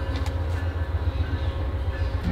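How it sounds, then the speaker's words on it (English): A train rumbling past nearby, a continuous loud low roar with faint clacking, heard alone with no talk over it. "there goes the train"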